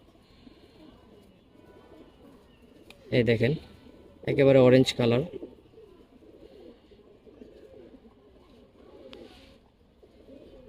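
Giribaz pigeons coo softly and steadily in the background, low and continuous, while someone speaks over them in two short bursts.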